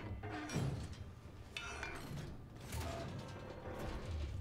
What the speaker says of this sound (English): Let's open these doors.